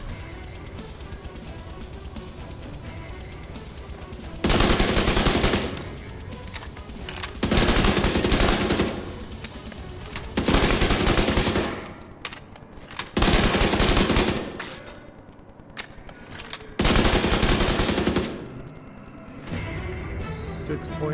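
Bursts of M45 submachine gun fire from The Division 2 come in about six loud sustained volleys of roughly two seconds each, with quieter game ambience between them.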